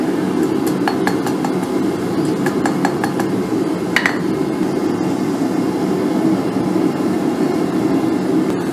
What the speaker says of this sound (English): Hammer just a little bit of a curve into these. Nothing major. Gentle taps.